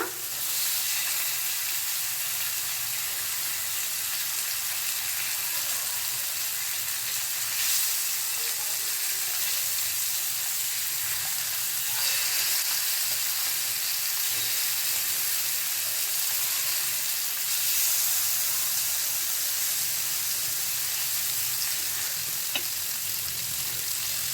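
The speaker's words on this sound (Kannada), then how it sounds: "ನೋಡ್ಬೋದು ಮೀನೆಲ್ಲ ಚೆನ್ನಾಗಿ ಫ್ರೈ ಆಗಿದೆ" Fish frying in oil on a flat tawa gives a steady, close sizzle and hiss that runs unbroken for the whole stretch, with occasional faint clicks and no voices.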